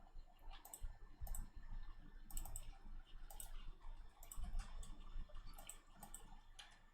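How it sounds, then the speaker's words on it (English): A cat walks across a computer keyboard, setting off irregular bursts of clicking and clacking keys. The presses land in uneven clusters, close and moderately loud over a quiet room. "Oh, stop standing on the keyboard."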